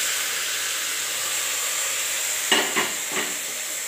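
Tomatoes tip into a pan of frying masala with fennel paste, then stirred: a steady sizzle and hiss runs throughout, broken by three short scraping stirs near the end, close and alone.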